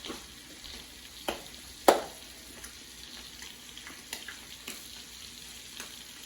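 Scallops searing in a hot pan give off a quiet, steady sizzle with moisture bubbling, broken by a few sharper pops and crackles, heard close with no talking.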